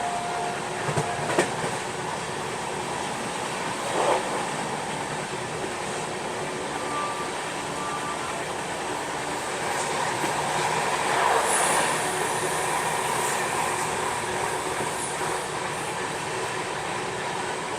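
The Ranchi Rajdhani Express rolls along its rails with a steady rumble and faint clickety-clack, heard from inside the carriage, with occasional squeals and knocks and no talk.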